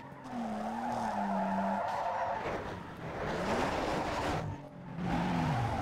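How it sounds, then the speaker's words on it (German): A car in the racing game Need for Speed Underground 2 slides hard through corners, with long, loud tire squeals that rise and fall over a droning engine, broken by brief dips between slides; no one talks. "Also der Wagen, der ist da wirklich hart am rumsliden."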